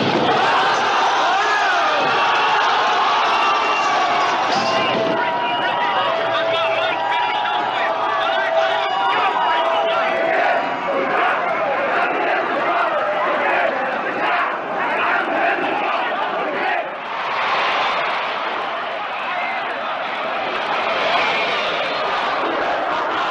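An outraged crowd roars and shouts demanding action, a dense continuous wall of many voices, loud and steady throughout with brief swells.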